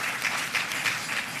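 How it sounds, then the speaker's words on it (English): Audience applause at a public service awards ceremony, a brief burst of many hands clapping together, fairly loud and close, with no talk. "So now you can join me in applauding Paula Dunn Blair"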